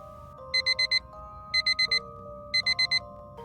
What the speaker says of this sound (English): I reach over, blindly smacking at my alarm, trying to find the snooze button.